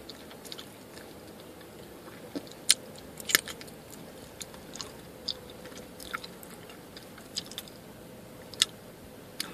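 Sugary bubble gum chewed close to the mic inside a car, with wet smacking and sharp crunchy clicks at irregular intervals over a faint background hiss.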